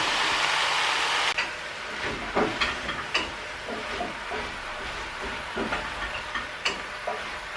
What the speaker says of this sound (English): I'm now going to fry these for around 5 to 10 minutes.